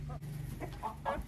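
A hen at a country henhouse clucks after laying an egg, giving a few short, near clucks over a steady low background hum.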